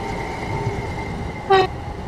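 A Southern commuter train in Train Sim World 3 rumbles by near Balham on the London Victoria line with a low, steady roll, and a short horn toot sounds partway through, clear and fairly close.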